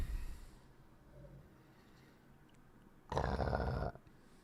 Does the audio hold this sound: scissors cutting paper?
no